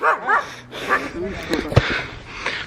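A dog trailing walkers along a rural path near Adimali, Munnar, gives several close, sharp barks and yips in short bursts, with people talking in between.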